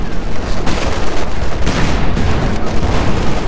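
Tank gunfire aimed at a Panzer IV in the Company of Heroes 2 video game, loud dense battle noise with repeated gunshot bursts and booms over a constant rumble, no talking.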